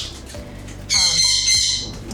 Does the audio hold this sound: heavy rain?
no